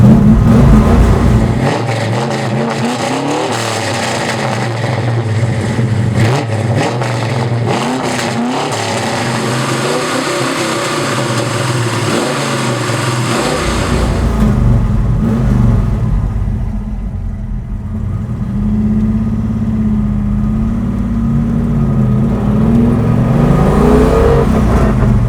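A 1971 Ford Mustang Cobra Jet, a 600 hp car, revs hard while driving, its loud engine roar rising and falling with gear changes, then easing to a steadier drone before building again near the end.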